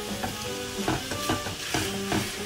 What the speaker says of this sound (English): You can hear the pan sizzling away and the sausage is cooking